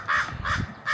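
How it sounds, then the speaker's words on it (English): Crows by a fence in an apple orchard give three quick, harsh caws in a row, fairly close and clear, with no talking. "There's some crows over in the fence there."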